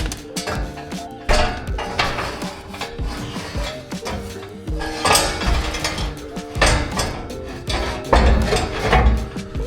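A mount is ratcheted onto a 4L80E transmission during an LS swap in a 1973 Buick, with irregular metallic clicking, rattling and occasional clanks up close.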